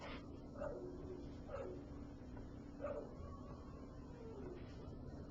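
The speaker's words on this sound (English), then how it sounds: "there's a dog outside who seems to be in misery." A dog outside, apparently in distress, lets out faint, distant whimpers and yelps at roughly one-second intervals over a steady indoor hum.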